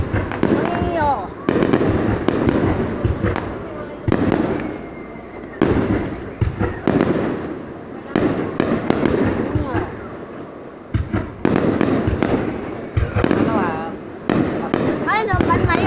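New Year's Eve fireworks over Bac Kan province, Vietnam, in 2019, heard as loud, continuous bursts and crackles that come in clusters with short gaps, under frequent excited chatter from nearby onlookers.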